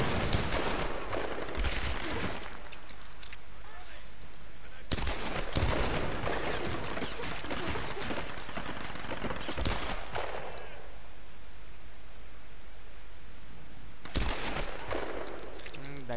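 Bursts of rapid gunfire from the video game Tomb Raider, several loud volleys separated by quieter gaps, with a voice speaking faintly between them.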